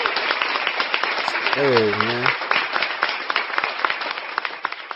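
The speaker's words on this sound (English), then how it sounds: "Clap it up for Mr. Rez." An audience claps for a guest at a live talk, a crisp continuous patter of hands while someone speaks briefly over it mid-way.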